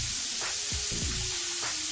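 Fish fillets fry in hot oil with a dense, steady sizzle close by, broken by a few brief crackles as pieces shift, with no talking.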